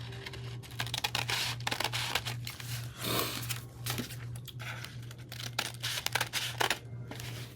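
Scissors trim the top of a bee-themed summer craft with quick papery snips and crinkling, close and dense over a low steady hum.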